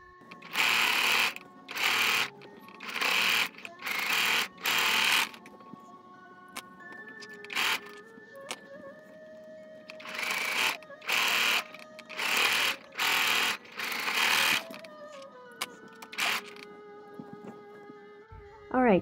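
A sewing machine stitches fabric for a bunny face mask, running in repeated short bursts of rapid mechanical whirring with pauses between, fairly close and moderately loud.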